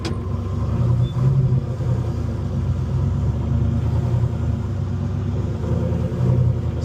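An electric-converted Datsun 240Z is on the move, with a steady low road rumble and faint whine under a constant wash of cabin noise, loud and even throughout, no voices.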